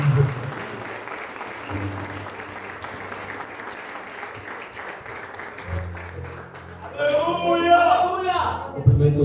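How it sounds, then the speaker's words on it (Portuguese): Applause from a church congregation, a steady patter of clapping throughout with a louder swell near the end, while speech runs over it at moderate level. "Dê uma salva de palmas"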